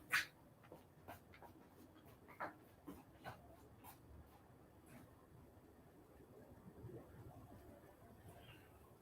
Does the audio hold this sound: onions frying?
no